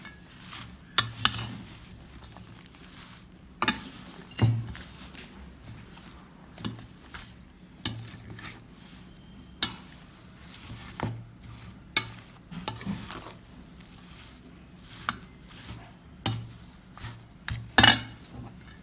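Mango pickle pieces being mixed with spices and jaggery, a steady series of close, uneven scraping and clinking strokes against the vessel, some louder knocks, no talking.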